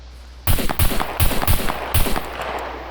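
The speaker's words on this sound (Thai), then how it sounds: "เอากระสุนไปยัดใส่ ยิงไปสองนัด" A firearm in the survival video game SCUM fires a quick series of about five sharp, loud shots, each with a short echoing tail, close up with no talk over them.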